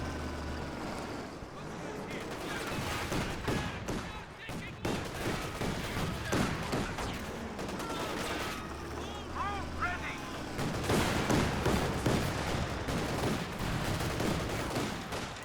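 Gunfire in the Company of Heroes 2 strategy game during a Panzer II Luchs and anti-tank gun skirmish, with sustained bursts of shots and explosions layered over continuous battle noise.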